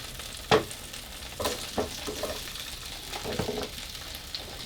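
Potatoes frying in oil in a pan, a steady soft sizzle with occasional louder pops and stirring scrapes, no talking.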